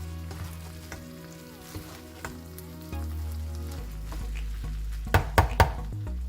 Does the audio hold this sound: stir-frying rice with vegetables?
yes